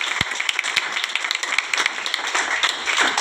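A church congregation claps together in praise, a dense, steady patter of many hands with a few sharper individual claps standing out, continuous for the whole stretch.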